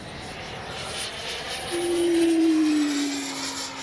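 A Freewing 80mm JL-8 RC jet howls as it dives, a rising, strengthening whine that swells to a loud peak over a steady background rush and then eases slightly.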